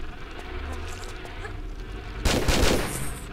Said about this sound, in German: Also ein verschwendeter Schuss auf jeden Fall.